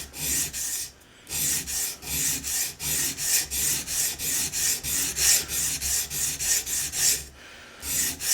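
A knife blade is drawn in long, steady rhythmic strokes across worn 220 grit abrasive for convex sharpening, each stroke a close, even rasping scrape with brief pauses between passes and no talking.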